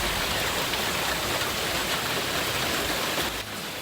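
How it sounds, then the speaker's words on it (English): Dense, steady pounding of hail, some as big as a baseball, on a surface, a continuous loud hiss with no talking. "hail pounding parts of our area, some of it even as big as a baseball"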